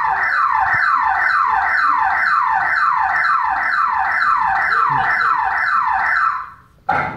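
A car alarm whoops loudly and close in a rapid, repeating rising-falling siren pattern for about six seconds, then cuts off abruptly before a brief final burst.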